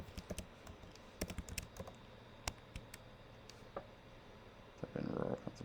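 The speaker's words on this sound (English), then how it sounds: "So I'm going to type in Pennsylvania." Someone typing a place name on a computer keyboard, with quiet, irregular key clicks and a short louder burst of keystrokes near the end.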